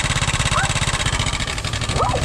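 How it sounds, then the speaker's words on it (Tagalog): A motorcycle engine with a strange noise, idling close by as a steady, loud pulsing rumble with a buzzy upper layer and a couple of brief high whining sweeps. "may narinig akong kaibang ingay dito sa motor"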